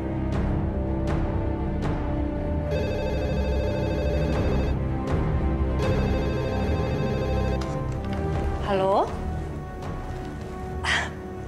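Telephone ringing at night in an Indonesian soap-opera scene, two long electronic ring bursts over a busy background of music and room sound, with brief voices.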